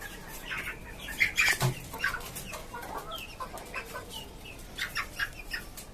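A white desi rooster on a rooftop poultry farm clucks in short, close, irregular bursts, with a few sharper calls in the middle.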